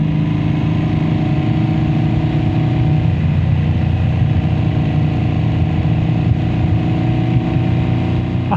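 Boxer-engine motorcycle cruising steadily along a rough-surfaced country road, its low engine drone and wind noise continuous and loud from start to finish.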